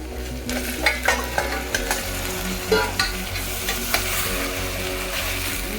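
Trotters fry in an oily pan while a spoon stirs them, making a continuous close sizzle broken by repeated scraping strokes. A low steady hum from the kitchen runs beneath, and there is no speech.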